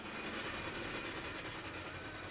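A roller coaster train in Planet Coaster rumbles along its track with a steady dense rolling roar and faint clickety-clack, heard alone and fairly loud.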